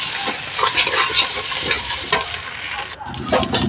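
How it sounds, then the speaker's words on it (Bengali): Meat masala spice powder frying in a hot pan as it is stirred, a loud, close, continuous sizzle with scraping strokes of the spatula and no talk. "এখন আমি ভালো করে কষিয়ে নেব।"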